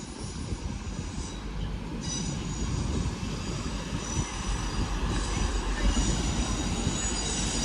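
A Class 156 diesel multiple unit pulls into Manchester Piccadilly station, its low engine rumble and wheel noise steady and fairly loud throughout, with faint high squeals and station ambience.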